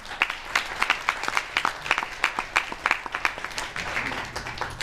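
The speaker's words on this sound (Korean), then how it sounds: "찬성한다면 의미의 박수 부탁드립니다." Applause at the founding general meeting of a Korean esthetics leaders' association, with a modest crowd clapping in sharp, separate claps, fairly close and uneven, tapering off toward the end.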